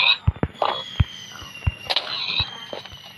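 Explosions from a Minecraft lucky block session against Siren Head: a rapid string of sharp, punchy bangs, about eight bursts of varying loudness over a few seconds, with crackling debris tails.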